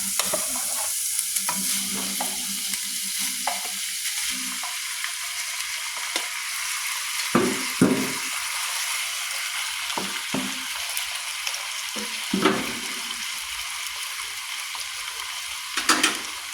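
Eggplant and vegetables stir-fry in a pan with a constant hiss of frying. Repeated scraping and tossing strokes of a spatula come through up close, with brief louder clanks now and then. No one speaks.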